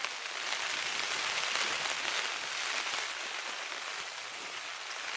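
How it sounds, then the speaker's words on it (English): Steady rain falls continuously, a dense even hiss of drops on a surface with no voices, constant in level throughout. "I don't know if you can hear that rain, but it's never really let up."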